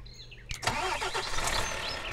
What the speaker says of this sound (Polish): Ja uruchomię silnik.